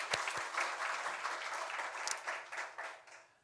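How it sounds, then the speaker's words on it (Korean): A church congregation bursts into applause during a Sunday worship service, steady massed clapping that holds for a few seconds at moderate distance and then tapers off. "하나님께 영광의 박수 올려드리겠습니다"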